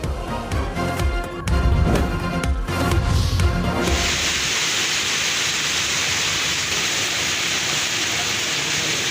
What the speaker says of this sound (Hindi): तूफानी किस्म की इस वक्त तेज हवा चल रही है, बारिश भी हो रही है।